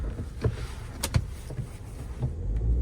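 Power windows of a 2.0 Hyundai Tucson running inside the car, a faint motor whir with a couple of sharp clunks near the middle and soft knocks around it, fairly quiet overall.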